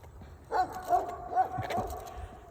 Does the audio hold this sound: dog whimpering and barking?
yes